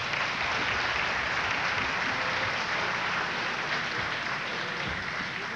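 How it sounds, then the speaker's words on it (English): A school winter concert audience applauds student musicians, giving dense, even, sustained clapping that fills the hall at a steady level without a break or voices. "they deserve a special round of applause"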